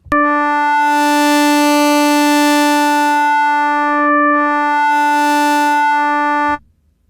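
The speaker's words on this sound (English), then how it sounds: "a sine wave slowly moving to a square wave" A steady Ableton Live 12 synthesizer tone holds one pitch as a sine wave morphs toward a square wave, its timbre gradually brightening and buzzing as harmonics swell, dipping once before fading out abruptly.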